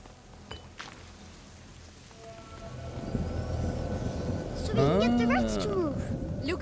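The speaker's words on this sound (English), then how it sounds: "Please, Hugo, stay out of the rain." Steady rain pours in the video game A Plague Tale: Innocence, a dense, even hiss that continues throughout while characters speak over it near the end.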